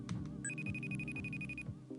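A telephone rings with a steady electronic tone over a busy low background hum from a live show, lasting just over a second, with no speech.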